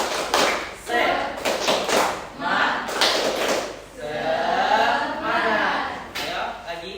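In a classroom, a group claps out a quick rhythmic spirit-clap pattern of sharp bursts, then voices join in with a loud collective shout.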